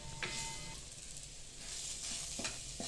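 Spices sizzling and being stirred in a pan for dal, a steady frying hiss with a few faint scrapes of the spoon near the end.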